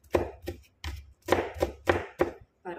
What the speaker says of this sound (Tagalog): Ako yung mag-chop ng garlic, bawang,